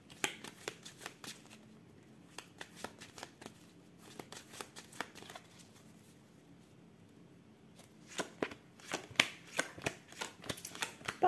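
Oracle cards shuffled by hand for a reading, a long run of quick papery riffles and soft slaps, close and clear, pausing midway before picking up again, with no talk.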